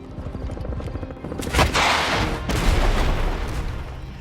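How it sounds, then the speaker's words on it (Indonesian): A headquarters explodes in an action film after its lights go dead: a heavy booming blast bursts out, followed by a second crash and a loud, sustained rumble over a dense background score. "tiba-tiba semua lampu yang ada di markas mati lalu terjadilah ledakan"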